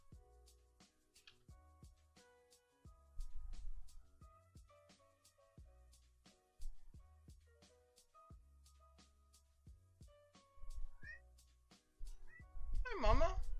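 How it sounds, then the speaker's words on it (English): A cat somewhere in a card shop cries out in scattered meows, faint at first, then a louder drawn-out yowl near the end, amid clicks and knocks from the room. "Cat is screaming."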